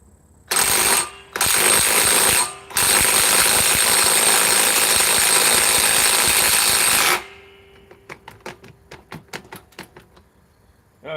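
Power tool tightening a bolt in loud, close bursts: two short blasts, then a long sustained run of several seconds, followed by a series of light metallic clicks and rattles.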